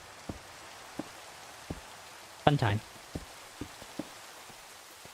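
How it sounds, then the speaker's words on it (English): Game rain patters softly in a building video game: scattered faint drops tick against a quiet hiss, and a voice briefly speaks in the middle. "Great. It's raining."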